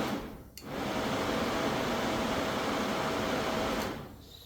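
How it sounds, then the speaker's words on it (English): Kawasaki KLR650 motorcycle cooling fan switching on and running as a steady, close, even whir after a brief click, cutting off near the end with no talk. "Take the wire, ground it to the bolt, fan comes on."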